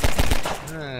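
A gun fires in Half-Life 2 in a rapid burst of three or four close, loud shots, then a ringing metallic tail fades out.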